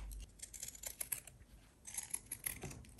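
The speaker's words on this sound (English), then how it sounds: "I'm just going to take my pinking shears to cut out a rectangular piece." Pinking shears snipping through a piece of paper or fabric for junk journal ephemera, a close series of quick crisp cutting clicks with a short pause midway, quiet and unaccompanied by speech.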